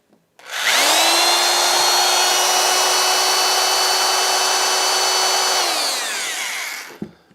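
Electric drill powered from a 600W portable power station spins up, holds a steady high whine for about five seconds, then winds down, loud and close with no talking.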